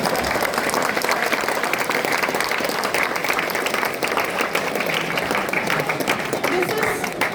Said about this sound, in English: So give a huge round of applause once again